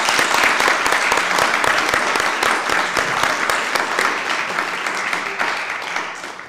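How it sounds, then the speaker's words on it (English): A conference audience gives a large, sustained round of applause for project members, dense clapping from many hands that holds steady and then slowly tapers off near the end. "Let's honor them with a big applause."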